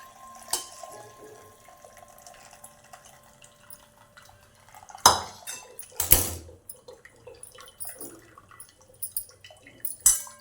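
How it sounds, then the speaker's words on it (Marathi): Water splashes and trickles as blanched amaranth greens are drained through a strainer, with intermittent drips, clinks of metal and short bursts of pouring. "आता अशी भाजी गाळून घ्यायची"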